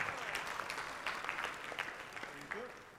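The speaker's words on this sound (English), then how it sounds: "A big round of applause." An audience at DevFest Sri Lanka 2014, a tech conference, applauding in a steady burst of clapping that stays at an even level, with a voice briefly heard over it.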